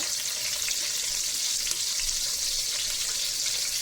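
Finely chopped medium-sized onion sizzling steadily in hot oil for mutton keema biryani, a constant bright crackling fry with light stirring.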